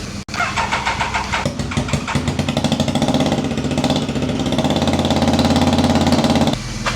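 A budget £300 project motorbike runs after a jump start, its engine running very rich, with a steady, loud, rough mid-pitched throb that holds for several seconds, then cuts off abruptly.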